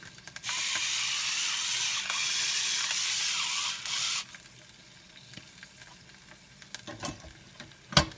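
Pepper is ground over filet mignon in a steady, gritty grinding for a few seconds. The grinding then stops, leaving quieter scattered clicks and a sharp knock at the end.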